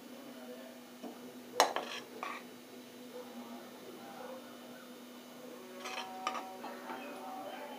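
A spoon mixes coriander pulao in a pressure cooker, giving a few light metallic clinks and scrapes against the pot, scattered and fairly faint over a quiet background hum.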